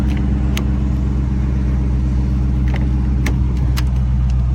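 A Dodge Charger R/T Daytona Edition's V8 engine idles with a steady, loud low rumble throughout, with a few faint clicks and taps over it.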